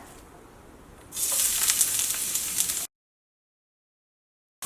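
Ginger, garlic, onion and green chilli hit hot coconut oil with a sudden loud, bright sizzle that holds steady for nearly two seconds, then cuts off to silence.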